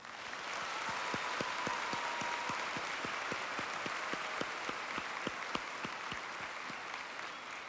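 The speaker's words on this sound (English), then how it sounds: "Please join me in a round of applause for our guests." Steady audience applause fills a high school graduation ceremony for the class of 2022, dense and sustained with a few sharper individual claps standing out near the front.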